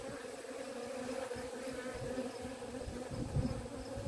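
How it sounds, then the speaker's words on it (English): Bees buzz steadily at a water source outdoors, a soft, continuous droning hum with faint individual wingbeats coming closer and drifting away. "Listening to the bees."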